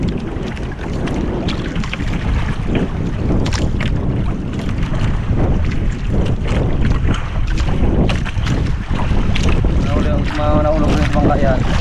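Strong wind roars around a small boat out at sea, with heavy buffeting gusts hitting the microphone and water washing against the hull over the whole stretch.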